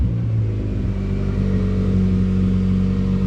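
A Mazda Miata's engine rumbles loudly and close as the car pulls away, the pitch rising steadily over a few seconds of acceleration, with no voices.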